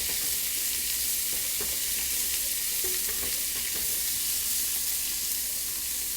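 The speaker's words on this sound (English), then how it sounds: "Whenever you saute onion or garlic, it just smells amazing in the house." Garlic and onion sauté in a hot pan, a steady broadband sizzle and hiss running throughout with occasional faint stirring clicks, close and continuous with no talk.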